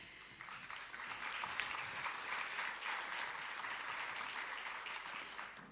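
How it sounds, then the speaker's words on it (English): Sustained audience applause from a conference keynote crowd, dense and steady throughout, moderately distant, with no voices standing out. "I'm going to ask that we hold the applause to the end"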